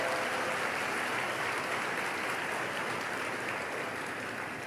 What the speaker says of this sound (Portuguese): Pode aplaudir, coragem.